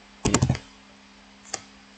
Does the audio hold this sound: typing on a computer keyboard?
yes